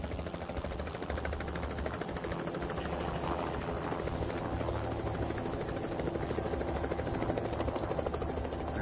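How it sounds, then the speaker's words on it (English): Helicopter rotors thrum steadily overhead in the video game Project Zomboid, a loud, continuous beating drone that fills the whole stretch with no talking. "More helicopters!"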